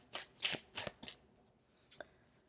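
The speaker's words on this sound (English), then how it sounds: "distracted from my shuffling" Tarot cards are shuffled by hand close up, four quick riffling bursts in a row followed by a softer pair of shuffles, quiet and without talk.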